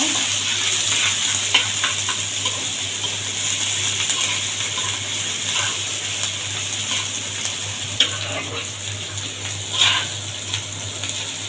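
Garlic leaves frying in hot oil for a tempering while cooking a sweet pumpkin ghonto, a steady loud hissing sizzle close by with occasional crackles and stirring scrapes throughout, no talking.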